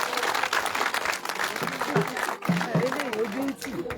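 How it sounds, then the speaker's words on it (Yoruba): A congregation at a church event claps steadily for the ministers, the applause filling the room while a voice speaks over it. "Ẹ jẹ́ ká pàtẹ́wọ́ fún wọn"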